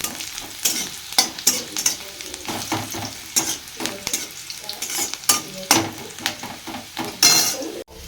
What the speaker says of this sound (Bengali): পেঁয়াজটা ভাজা ভাজা হয়ে এসছে